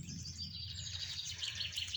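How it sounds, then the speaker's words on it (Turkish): Birds sing and chirp outdoors in nature, light high tweets repeating over a quiet, faint background. "Doğa çok güzel kuşlar ötüyor."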